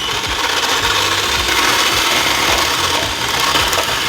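Cream for crème chantilly is beaten with an electric mixer, giving a loud, steady whirring hum with the rough swish of cream in the bowl that runs unbroken throughout.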